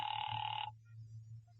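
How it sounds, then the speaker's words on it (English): An old-fashioned telephone bell ringing in an old time radio horror drama, a single brief burst of bright continuous ring that cuts off, followed by quiet low hum. "Ringing the police department."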